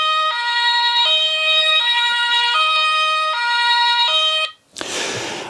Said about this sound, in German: natürlich Martinshorn, auch das haben wir im Auto. Man hört es, klingt ganz gut